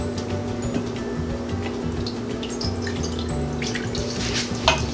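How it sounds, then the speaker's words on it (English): Water pours into the bottom of a baking dish for crème caramel, a steady trickling stream with small splashes and a faint clink of dishware near the end. "Now I need to add water to the bottom of the dish."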